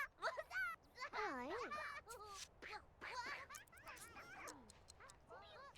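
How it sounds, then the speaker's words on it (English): A pet dog in The Sims 2 barks and yips repeatedly in quick, bright, whimpering bursts, fairly close and quiet, with children's voices mixed in around it. "Dog!"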